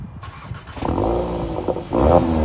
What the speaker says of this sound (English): while we also have the twin exhausts, which sound like this in dynamic mode